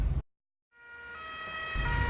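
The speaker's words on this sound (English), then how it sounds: "Oh, it's an empty ambulance." An ambulance siren sounds as a steady wailing tone after a sudden cut to silence, rising in loudness as it draws closer and passes.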